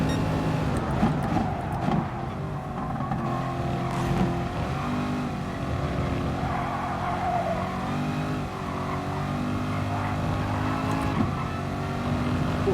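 Race car engine in the GT Sport video game, a steady loud drone with layered engine harmonics that shift slightly as revs rise and fall, running continuously without talk.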